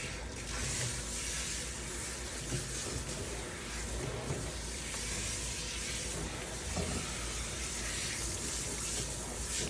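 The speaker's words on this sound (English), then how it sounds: "Going to rinse his tummy, rinse his paws." Warm water pours steadily while a cat is rinsed during a bath, a loud continuous spray and splash running unbroken throughout.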